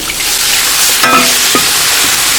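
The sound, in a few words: mineral water added to hot wok of fried chili, sizzling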